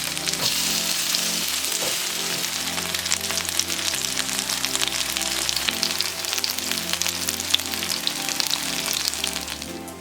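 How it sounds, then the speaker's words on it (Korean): A chive pancake with Cheongyang chili fries in an oiled pan, a loud, dense and continuous crackling sizzle that stays close and steady throughout with no talking. "앞뒤로 노릇하게 빚어낸다."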